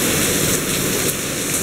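Heavy rain pours down steadily and loudly, a dense unbroken hiss of drops drumming on surfaces with no pauses, filling the whole stretch on its own.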